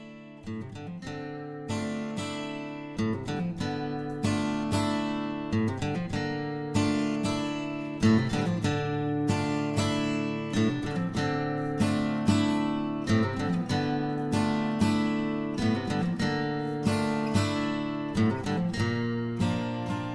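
Several strummed guitars play a steady, rhythmic song together, chords ringing continuously with regular accents throughout, no voices.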